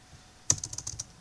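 Brief burst of keystrokes on a computer keyboard while entering text into a form field, about six quick clicks in a rapid run, close and crisp, with no voices.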